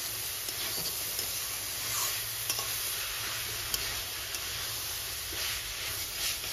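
Boiled banana flower is stir-fried in a dry pan over medium-high flame, a continuous soft sizzle broken by faint scraping of the spatula, with no talking.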